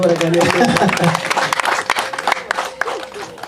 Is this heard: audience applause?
yes